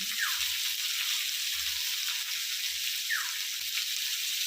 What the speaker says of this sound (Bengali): ক্যাপসিকাম কুচোটা দিয়ে দিচ্ছি